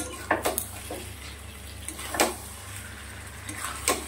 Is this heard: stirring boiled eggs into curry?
yes